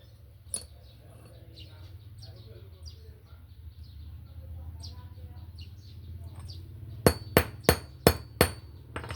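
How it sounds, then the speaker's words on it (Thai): Five sharp metallic hammer strikes in a quick, even rhythm, close by, driving out a motorcycle chain pin, following a stretch of quiet ambience with faint chirps and a single early tap. "นี้ผมตอกมาแล้ว เนี่ยแกน แกนที่ยึดโซ่ก็จะโผล่ออก"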